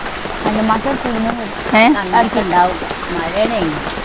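Steady rain hisses continuously in the background while people talk over it.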